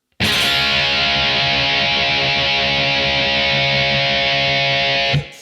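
Distorted electric guitar strummed very fast through a run, a dense, continuous loud wash of sound holding steady for about five seconds before cutting off abruptly.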